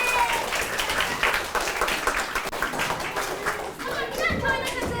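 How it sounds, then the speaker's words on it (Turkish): A school audience at a middle school drama event applauds loudly and steadily for about five seconds, with children's voices mixed into the clapping. "Alkışlıyoruz tüm arkadaşlarımızı yerine alıyoruz."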